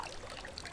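Water pours or trickles steadily over a person outdoors on a hot day during travel in Italy, a soft continuous splashing stream lasting under a second, close and fairly quiet.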